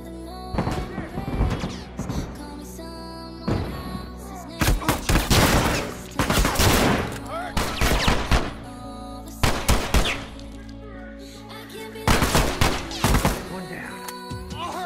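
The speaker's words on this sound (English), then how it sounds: "Shoot or be shot." Bursts of gunfire in The Last of Us online multiplayer, repeated volleys of rapid shots spread across the clip with short gaps between, loud and close.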